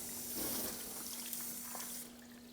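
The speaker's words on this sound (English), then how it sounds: "it just sheets the water right off" Rinse water sheets off the coated paint of a car being detailed, a steady broad hiss of running water with a constant hum beneath, cutting off near the end.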